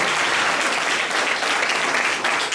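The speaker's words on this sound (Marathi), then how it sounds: "जरा टाळ्या होऊन जाऊ द्या." Audience applause at a Marathi language day lecture, a steady dense roar of clapping filling the whole stretch at close, loud level with no pause.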